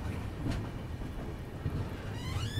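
The Ganga Kaveri Express rolls along after leaving Bhadohi station in India, a low, steady rumble heard from inside a third AC coach, with a faint higher whine near the end.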